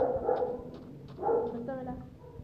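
Short dog barks from Minecraft come in two or three brief bursts under game sounds and background noise; no clear speech is heard.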